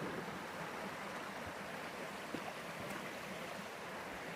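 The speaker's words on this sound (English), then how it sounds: "This is a cool little stream." A cool little stream flows near a campsite, a steady, even wash of rushing water, fairly close and unbroken, with no voices.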